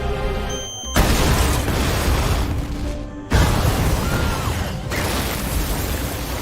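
Heavy, roaring blasts with deep rumbling as a bomb explodes in a cafe in a film scene, two loud bursts separated by abrupt cuts, dense and close, no talking.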